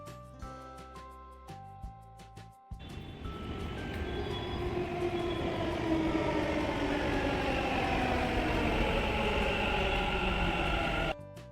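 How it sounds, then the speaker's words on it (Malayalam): A metro train rumbles steadily along the tracks with a rising hum and whine, continuing loud and even before cutting off abruptly. "നമ്മൾ മെട്രോ കയറാൻ വേണ്ടി വന്നിട്ടുള്ളത്."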